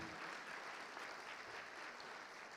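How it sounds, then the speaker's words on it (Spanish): A church congregation claps together in a continuous, fairly soft and distant wash of applause that holds steady without pauses. "Le da un aplauso a Jesucristo todavía."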